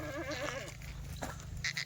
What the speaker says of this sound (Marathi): असे या लाल मान्याच्या शेळ्या ह्या देखील दूध आला